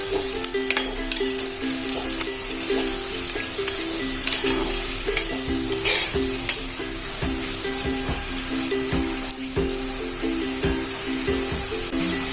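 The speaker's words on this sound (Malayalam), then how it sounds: "വെളിച്ചെണ്ണ ചൂടായിട്ടുണ്ട്, അതിലേക്ക് സവാള അരിഞ്ഞു വെച്ചത് ഇട്ട് കൊടുക്കാം" Chopped onions sauté in hot coconut oil with a continuous sizzle, and a utensil stirs and scrapes the pan at moderate volume throughout, with no talking.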